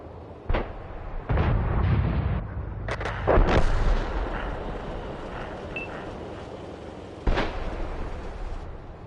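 Tank cannon shots in the online game World of Tanks, several loud booming blasts with rolling rumble after each, spaced unevenly, the last one alone after a quieter pause.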